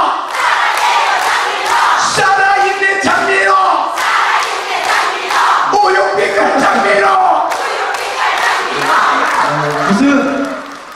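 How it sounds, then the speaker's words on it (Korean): At a KBS singing-class concert, a large audience shouts affectionate cheers in unison to a guest singer. The chorus of voices is loud and rowdy, rising in repeated bursts across the hall. "사랑해요 다시 한 번 해주세요."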